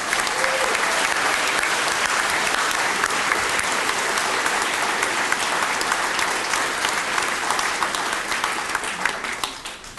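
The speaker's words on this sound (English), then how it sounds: "Please give them a round of applause" Sustained applause from an audience at a grand opening presentation, a dense, steady wash of many hands clapping for about ten seconds, tapering slightly near the end.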